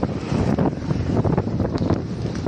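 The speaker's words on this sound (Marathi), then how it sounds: "एवढा जोराचा हा वारा आला होता" Strong wind during a storm roars and buffets the microphone in heavy, uneven gusts, loud and close, with no voices.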